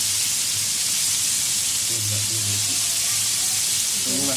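Shrimp and chili hitting a hot pan in a Bengali taro-leaf curry, a steady broadband sizzle and crackle of frying that runs throughout, fairly close, with faint low kitchen noises underneath.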